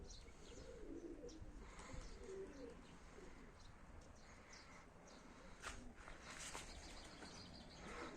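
Plain domestic pigeons cooing softly near a loft where young birds are being flown, with chirps and the flutter of other birds over a steady outdoor background.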